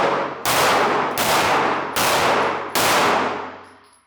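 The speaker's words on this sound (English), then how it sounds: "I want you to shoot as fast as you can get the hits" Four loud, evenly spaced gunshots fired quickly at steel targets during a shooting drill, each sharp crack ringing into a metallic decay, with the last tail fading out.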